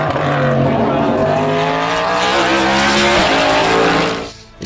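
A Chevrolet Camaro race car at the Le Mans 24 Hours roars loudly at close range, its engine note rising and shifting through gears for several seconds with some tire noise, then drops away sharply near the end.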